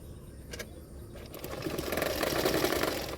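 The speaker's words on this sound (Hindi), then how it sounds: "पीछे की तरफ मैंने इस तरह से सिलाई कर रही हूँ" A sewing machine runs steadily, stitching piping onto a blouse neckline, its motor whirring louder and denser after a quieter start, close by with no talk.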